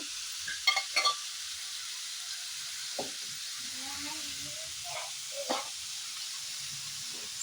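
Onions sizzling and frying in a pan with a steady hiss of steam, quiet and continuous, with a few soft stirring clinks near the start.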